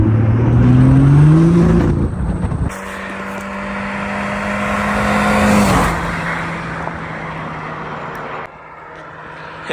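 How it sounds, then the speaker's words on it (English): A Mini Cooper S drives past close by with a rising, loud engine note that shifts into a steady whine, then recedes and fades as it moves away. "Here comes the Cooper S."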